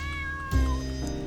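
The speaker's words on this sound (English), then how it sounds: "Really like the cat." A cat meows once in the video game Midnight Train, a short, clear call rising over steady in-game background music.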